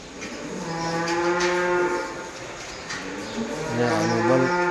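A cow gives a long, drawn-out, strained moo while giving birth to a calf, then a second rising bellow follows, loud and close, with no speech over it.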